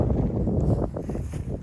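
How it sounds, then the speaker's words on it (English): Strong outdoor wind buffets the microphone at a helmet ballistic test, a steady low rumbling roar filling the whole moment with no speech. "The wind's really just drastic today."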